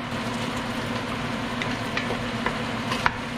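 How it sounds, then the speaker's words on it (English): Rice vinegar going into a pot of braising pork spare ribs, giving a steady sizzle and bubbling with a few faint clicks, continuous and moderately loud with no voices. "I'm gonna put 2 tablespoons of rice vinegar"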